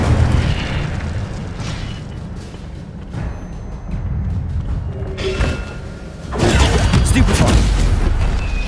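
Incendio fire spell cast in the Hogwarts Legacy video game, giving loud whooshing fiery bursts and booms that swell and fade across a busy combat soundscape, with a second strong blast near the end.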